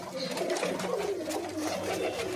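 A loft of breeding pigeons with young gives a continuous, close, throaty cooing that rolls and wavers in overlapping calls, with faint background noise.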